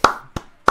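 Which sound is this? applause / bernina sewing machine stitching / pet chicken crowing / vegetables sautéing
applause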